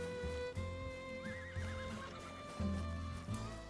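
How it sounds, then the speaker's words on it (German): Horses in Red Dead Redemption 2 whinny and neigh repeatedly over a steady game music drone, with several loud close calls and some hoof shuffling throughout. "Unsere Pferde eskalieren gerade völlig."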